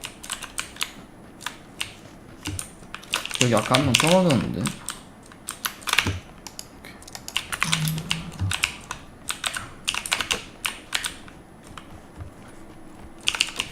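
Clicky mechanical keyboard with blue switches typed on in quick irregular bursts of sharp keystrokes, close and fairly loud, with a voice speaking briefly over part of it during an online game session.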